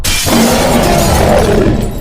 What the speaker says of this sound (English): it decided to break through the window instead